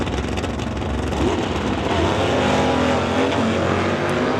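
A station wagon and a Mustang launch at a drag strip on a test-and-tune day, their engines roaring loud and sustained across the whole stretch with no talking.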